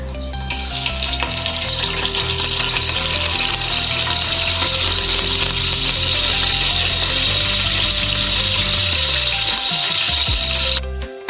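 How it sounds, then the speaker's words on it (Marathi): Curry leaves dropped into hot oil for a Marathi-style chicken pulao crackle in a loud, steady sizzle that holds for about ten seconds, then settles and fades near the end. "तेल आपलं आता गरम झालंय, त्यामध्ये मी कढीपत्ता टाकते।"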